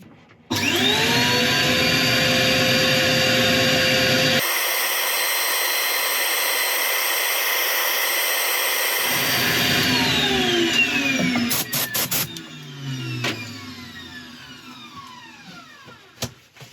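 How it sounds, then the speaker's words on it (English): A loud, steady whirring of a lathe with an abrasive rasp from sanding a red oak bowl, shifting in pitch partway through before the machine spins down. "I'm just going to spend a couple of minutes just sanding this bottom"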